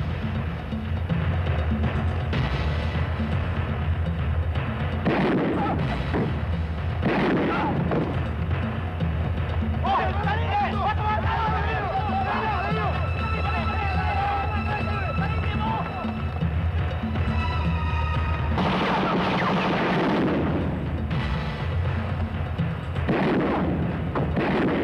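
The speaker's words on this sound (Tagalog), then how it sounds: "Oh, putukan yun eh." Gunfire from a Filipino action film, bursts of shots and booms crashing through a busy, loud soundtrack, with people talking and shouting over much of it.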